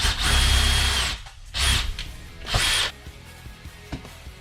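Power drill drilling out a rivet on a seat during a seat cover install, three short high whining bursts separated by pauses, with faint handling clicks afterward.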